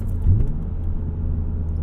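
A BMW E36 M3 engine's deep intake suction rumbles steadily under hard, full-throttle acceleration, heard from inside the car.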